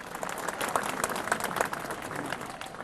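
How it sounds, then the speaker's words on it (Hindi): Audience applause at a literature festival in Lucknow, a steady crowd clapping with a few sharper individual claps standing out across the whole stretch. "एक जोरदार तालियां पहले हो जाएं"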